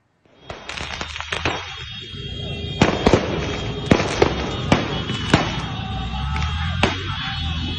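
Firecrackers thrown into a street from motorcycles by a group of teenagers during a brawl on Jalan Yos Sudarso, Palembang: a rapid series of sharp, loud bangs at irregular intervals over steady background street noise.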